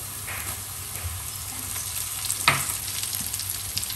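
Onions frying brown in a pan for chicken koovi cherinjathu with curry leaves going in, a steady close sizzle broken by a single sharp clank of a utensil, no talking.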